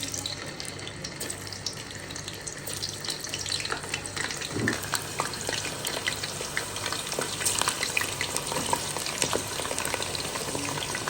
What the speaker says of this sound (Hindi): ऑयल हमारा गर्म हो चुका है। अब हम करेलों को फ्राई करते हैं।